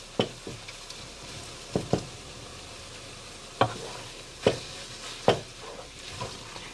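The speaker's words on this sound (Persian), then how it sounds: "ربمون رو تف میدیم." Steady sizzling of tomato paste frying in a pot for Armenian-style barley soup, with several sharp clinks and scrapes of a spoon stirring at irregular intervals.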